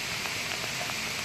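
Rain falls outdoors near a hilltop temple shrine in Virar as a soft, steady, even hiss with no voices, fairly faint throughout.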